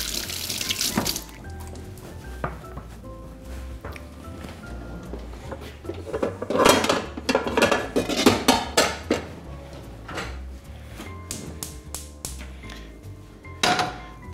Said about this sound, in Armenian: արդեն կարելի է տապակը դնել գազօջախին